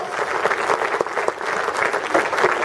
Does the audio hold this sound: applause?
yes